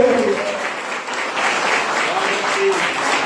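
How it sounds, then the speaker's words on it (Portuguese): A church congregation claps together during an evangelical service, a steady broadband patter of many hands filling the room while speech-like tones drift faintly underneath. "Aplauda Jesus nessa noite."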